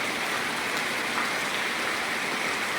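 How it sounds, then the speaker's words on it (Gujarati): Heavy rain pours steadily with running water rushing beneath it, a dense unbroken wash of noise that stays loud and close throughout with no voices. "આ વરસાદ આ પાણી હેલી જાય ધમધોકા."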